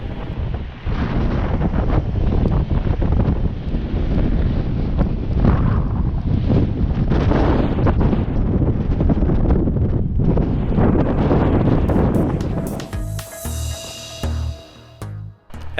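Strong wind buffets the microphone outdoors on the Cloudland Truck Trail, a loud continuous roaring rumble that eases in the last few seconds, where faint other sounds come through.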